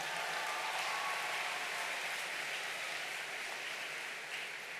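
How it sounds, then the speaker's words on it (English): Sustained applause from a conference audience at the 2019 ILC, a steady dense wash of clapping that holds at an even level for the full stretch with no talk over it. "give yourselves a round of applause"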